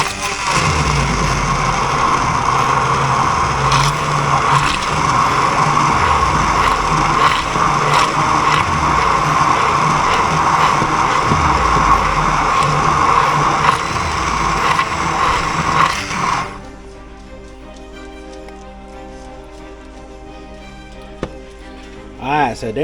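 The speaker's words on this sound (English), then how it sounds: "we're gonna get our hand mixer and we're gonna blend this together" A hand mixer whirs loudly and steadily while blending eggs for bacon swiss chaffle batter, its motor droning for about sixteen seconds before cutting off, followed by quieter room sounds and a small knock.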